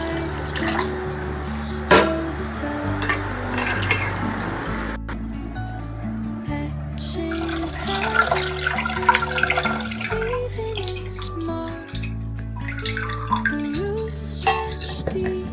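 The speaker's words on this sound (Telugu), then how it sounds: "మరి కొంచెం నీళ్ళు పోసుకొని ఇందులో ఉన్న రసం తీసేసుకుందాం." Water pours and splashes intermittently into a vessel nearby, with drips and squelching as pulp is squeezed, over a faint musical background.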